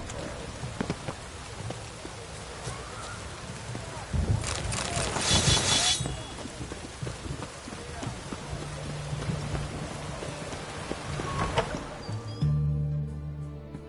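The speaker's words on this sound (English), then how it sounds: "What a downpour." Steady heavy rain pours throughout in the video game The Witcher 3, with a louder surge of downpour midway and some faint voices and clatter in the background.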